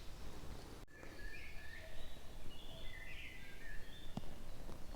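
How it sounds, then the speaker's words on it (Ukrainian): Faint birdsong drifts through a summer forest: a few scattered chirps and short warbling phrases, distant and soft over a steady outdoor hiss, with one brief click near the start. "Ви чуєте цей спів пташок?"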